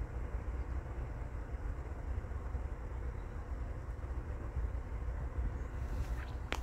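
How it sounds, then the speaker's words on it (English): A train rolls past quietly as a steady low rumble that holds level throughout, with a faint brighter squeal rising near the end and no talk. "That train sounds really quiet."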